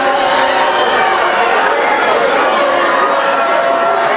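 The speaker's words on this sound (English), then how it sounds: "And the crowd not liking that call." A disapproving crowd at a high school boys' basketball playoff game fills the gym with a loud, sustained roar of murmuring and grumbling, while a commentator talks over it.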